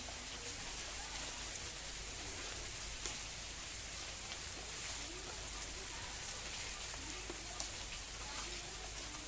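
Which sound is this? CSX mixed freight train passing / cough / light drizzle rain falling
light drizzle rain falling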